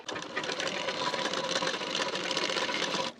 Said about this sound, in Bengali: এরপর এই যে আর্মহোল সাইডে যে প্লেটগুলো পড়েছে এখানেও একটি সেলাই দিয়ে নেব বরাবর করে ধরে